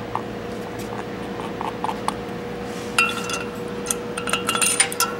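Steel head bolts coated in assembly lube dropped one after another into the bolt holes of a 1.3L Suzuki Samurai engine head, giving light metallic clinks near the end over a steady workshop hum.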